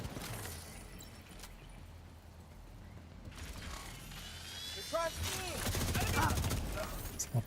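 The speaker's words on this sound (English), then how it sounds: "I'm gonna shoot him in the butt." Gunfire from shooting an enemy in a shooter game, heard as a quick rattling burst of clicky mechanical shots at moderate loudness, followed by busier firing with a voice talking over it.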